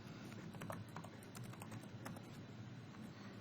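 A computer keyboard is typed on at a steady, quick pace while entering a search query, with soft, close, fairly quiet key clicks and no voices.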